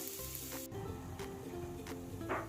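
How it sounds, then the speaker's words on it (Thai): Shallots and garlic roasting in a hot pan give a steady close sizzle, with a few brief scraping stirs breaking through the continuous frying hiss. "นำหอมกระเทียมไปคั่วให้หอมสุกจ้ะ"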